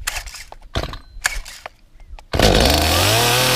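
A Stihl MS 250C Easy2Start chainsaw takes a few short, uneven starter-cord pulls, then catches and roars into a loud, steady run, its pitch climbing as it settles, close by with no talk.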